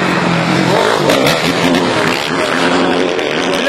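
A motorcycle, number 13, races past during a skijoring event in Cēsis, its engine roaring loud and close with a rising then falling pitch as it passes.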